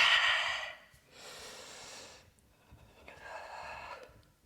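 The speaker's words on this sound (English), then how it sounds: "Breathing in, breathing out." Two long, audible breaths during a glute-focused yoga exercise, each a broad airy rush lasting about a second, the first louder, with a quieter third exhale near the end.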